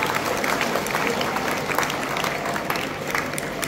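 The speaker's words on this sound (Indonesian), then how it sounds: "Mari kita beri tepuk tangan yang meriah untuk petugas upacara pada pagi hari ini." A school crowd at a Youth Pledge Day flag ceremony applauds the ceremony officers, a dense continuous wash of many hands clapping at fairly even loudness throughout.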